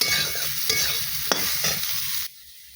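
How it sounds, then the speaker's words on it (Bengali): Soybean chunks fry in leftover hot oil in a pan, a steady close sizzle broken by a few scraping stirs and clinks before the sound drops away abruptly near the end. "আর যে এক্সট্রা তেলটা ছিল তার মধ্যে যে সয়াবিন কটা ভেজে নিচ্ছি।"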